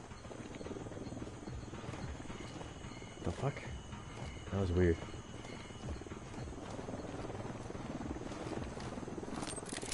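Helicopter rotor drone in the Ghost Recon video game, circling overhead with a steady low thrum under game effects and brief bursts, while someone talks over it.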